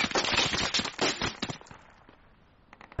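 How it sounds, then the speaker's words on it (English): A video game squad's weapon lays down cover fire on an enemy LMG: a loud, rapid burst of close gunshots lasting about a second and a half, then a faint tail of scattered distant shots. "Putting some cover fire on that LMG."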